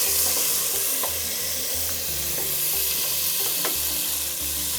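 Butter melting in a big soup pan at the start of a vichyssoise, giving a steady soft sizzle with a faint low hum and occasional light clinks of a utensil against the pan.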